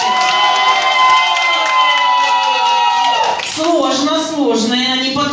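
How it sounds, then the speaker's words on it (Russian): An audience at a birthday show in a cafe cheers and shouts over music with sung or held tones, the crowd noise swelling briefly midway while a voice joins in. "Кто считает, что маркер номер 2 победил? Аплодисменты."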